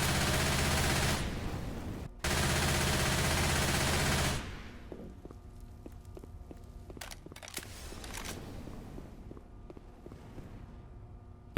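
Gunfire heard through walls in the video game Left 4 Dead 2: a long, loud, continuous noisy burst with one short break, followed by quieter scattered shots and clatter.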